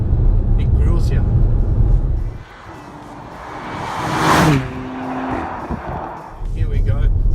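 A 2017 Porsche Cayenne GTS heard from the cabin while driving, its engine note loud and droning, dipping briefly as it eases off before a rising surge and swelling back to a strong, steady roar.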